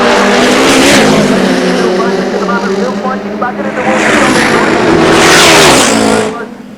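Top fuel drag racing motorcycles launching down the quarter mile at Santa Pod, a loud, close roaring engine blast rising and surging across several seconds with a commentator talking over it.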